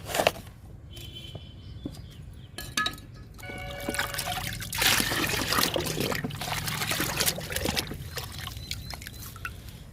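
Sour buttermilk trickles and splashes from a container onto potted eggplant plants, a close pouring sound that swells into a steady stream after a few clinks and handling noises.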